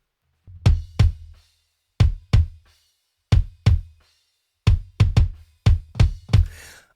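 Kick drum blended with a drum trigger sample, played as a steady run of paired and single hits, each tight and even, with a consistent punchy attack and short low decay, close and without voices.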